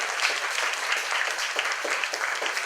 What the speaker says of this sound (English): Shall we give Professor Mei a round of applause?